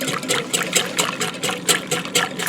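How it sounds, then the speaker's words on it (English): Melted chocolate is poured slowly into an egg mixture for guar gum pudding while it is whisked, giving a steady run of rhythmic, wet, splashy strokes close by, with no talking. "slowly pour in this chocolate while whisking so that we don't get scrambled eggs"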